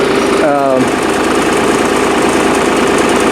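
A skid steer loader's engine runs steadily at close range, a dense, continuous mechanical drone with no break across the whole stretch.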